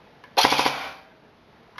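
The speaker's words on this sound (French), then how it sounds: "Et là, si je tire, rafale de 5." An airsoft gun fires a rapid five-round burst through its mosfet: a quick, tight string of close mechanical shots lasting well under a second, then a faint click afterward.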